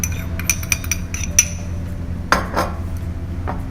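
Mango lemon cake batter being mixed in a bowl, with a handful of sharp clinks and scrapes of a utensil against the bowl spread irregularly over a low steady background hum.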